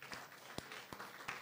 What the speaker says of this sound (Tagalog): Pwede bang palakpak tayo kay Lord?